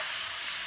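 Onions hitting a hot pan in a sweet potato shepherd's pie, a steady bright sizzle and frying hiss with no pauses, moderately quiet.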